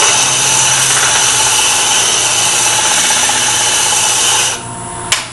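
A segmented wood-turning ring is sanded with a loud, close, steady abrasive whirr that runs for about four and a half seconds, then drops away and ends with a short knock.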